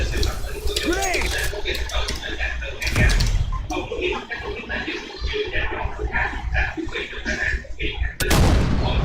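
Grenade explosions in a shooter video game, broad booming blasts near 3 and 8 seconds amid steady gunfire-like clutter, with excited voices shouting throughout.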